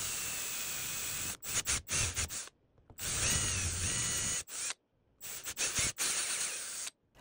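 Power drill spinning a countersink bit into the aluminum edge of a stripped spark plug hole being repaired with a Time-Sert insert, loud steady whirring bursts broken by short pauses and stops, no talking.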